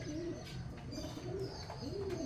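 Pigeons in a cage, gathering neem twigs, give several soft, rolling coos in a slow rhythm over a constant low background rumble.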